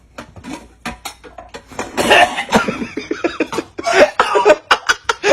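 A cooking pot of spoiled sinigang being opened and handled, with repeated sharp metallic clanks and knocks of pot and lid coming close and loud in quick irregular bursts.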